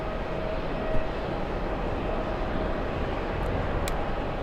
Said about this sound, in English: We have Alaska 249 flying in from San Francisco